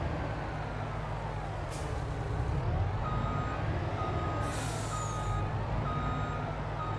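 A truck in the Farming Simulator 22 game backs into a parking bay, its reversing alarm sounding repeated steady beeps over a low engine rumble, with two short hissing bursts like air brakes. Nobody speaks.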